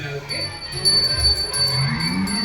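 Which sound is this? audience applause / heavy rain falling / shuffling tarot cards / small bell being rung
small bell being rung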